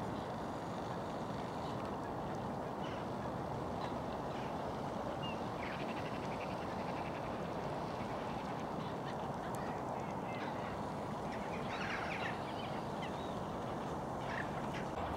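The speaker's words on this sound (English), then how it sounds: "gulls roosting" A noisy flock of gulls roosting at night, their overlapping calls a distant, constant wash of squawks and honks over steady broadband ambience, with no talking.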